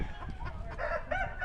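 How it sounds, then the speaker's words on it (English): Silkie chicken on a small farm giving a few clucks and short calls over steady rustling background noise, close and moderately loud. "So this is a silky chicken."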